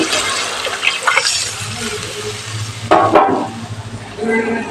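Water poured into a cooking pot with soaked kudampuli (Malabar tamarind) for a fish curry, a steady close splashing stream that surges near the end, with a voice talking over it.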